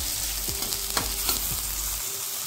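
Chopped onion, garlic, tomato and green chillies sizzling in a hot pan, a steady close fry with a few stirring scrapes, no voices.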